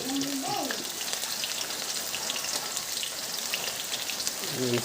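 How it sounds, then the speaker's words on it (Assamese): Chopped onions tipped into hot oil in a pan while pumpkin chicken is being cooked, giving a steady, close hiss and sizzle that runs throughout, with a brief voice and faint clatter at the start and end. "এইখিনি তেলটো গৰম হৈ গ'ল, পিঁয়াজটো ঢালি দিয়া আছে মায়ে"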